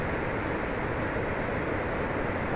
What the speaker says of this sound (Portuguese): aqui tem bastante barulho da água